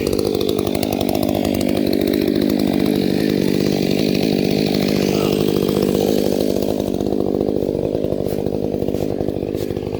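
A Stihl MS 500i chainsaw, just repaired, cuts through wood with a loud, steady, close-up engine roar that holds unbroken throughout.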